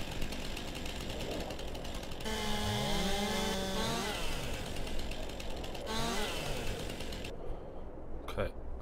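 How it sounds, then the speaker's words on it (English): A chainsaw cuts through a sign post in Farming Simulator 22, its buzzing motor rising and falling in pitch through several strokes, steady and moderately loud, ending in a sudden drop-off with a click. "Cut in this sign post with a chainsaw, permanently removes rocks from the map."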